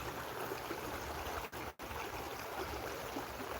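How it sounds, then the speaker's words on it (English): A mountain forest stream running steadily, a continuous rushing wash of water that stays close and even, with one brief dip partway through and no talk. "Look at the way the water runs through here."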